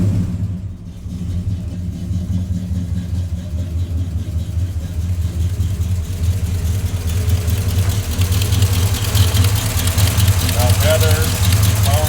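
A 1971 Chevrolet C10 with headers idles close by, its exhaust giving a loud, steady low rumble that swells slightly toward the end, with a voice talking over it.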